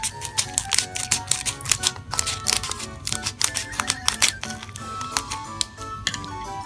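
Dragon Ball Shikishi Art 4 card packs being torn open and handled up close, a steady run of crisp crinkling wrapper and sharp paper clicks with a faint low hum beneath, no talk.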